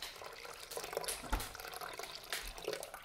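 Water pours into a Thermomix bowl for oatmeal, a faint splashing trickle with a few louder gurgles over about three seconds.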